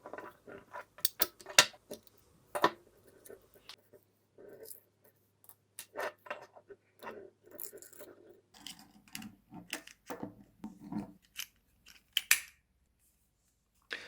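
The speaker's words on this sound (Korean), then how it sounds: "한번 스프링을 교체해 봐야 될 것 같네요" Metal parts of a full-steel GHK 1/2-scale Sten Mk.II model gun being handled during a spring swap, giving scattered sharp clicks, taps and small metallic clacks with quiet gaps between them, close by and without talk.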